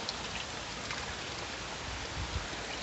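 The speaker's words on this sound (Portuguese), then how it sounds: "Olha só que cachoeira." Steady broadband rush of water from a waterfall pouring over rock in a forested hillside park, a dense continuous wash with no voices over it.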